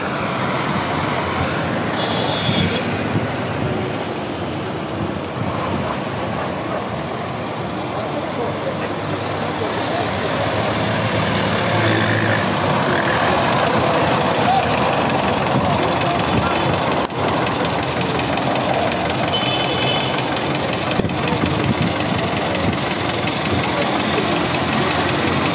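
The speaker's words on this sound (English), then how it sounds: "Vehicles belonging to the Lagos State Task Force has arrived at the toll gate." Lagos State Task Force vehicles pull up at the Lekki toll gate during a protest, with continuous engine rumble and roadway traffic noise throughout and voices talking over it.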